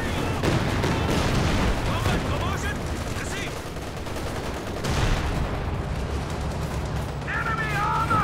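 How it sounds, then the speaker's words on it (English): Artillery barrage in a Company of Heroes 2 2v2 match, fired from long range across the map: dense, continuous rumbling booms and rattling gunfire filling the whole stretch at steady high loudness, with voices faintly mixed underneath. "Oh man, he's barraging."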